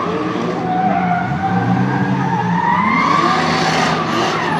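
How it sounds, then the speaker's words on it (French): A BMW fitted with a Toyota turbo engine rated at about 500 horsepower drifting at a Luxembourg motor show, a loud sustained engine roar with rising and falling revs and tyre squeal throughout. "Cette BMW à moteur Toyota Turbo, voiture annoncée pour 500 chevaux."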